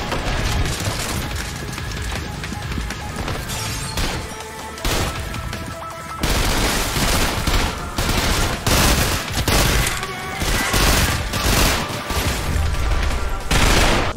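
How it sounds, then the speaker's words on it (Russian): Rapid weapon fire from the first-person shooter Trepang2, dense loud bursts of shots and impacts running continuously with brief gaps, heavy and close with no talking. "Да и сами звуки оружия и всего окружения смачные и качественные."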